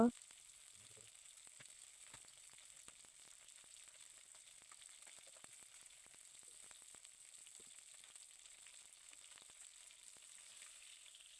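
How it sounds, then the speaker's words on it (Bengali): Simul sea fish frying in oil over a clay stove makes a faint, continuous sizzle scattered with small crackles and pops. "দেখো মাছ ভাজা হয়ে গেল"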